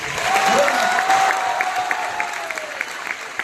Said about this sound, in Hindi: यार और भी तालियां बननी चाहिए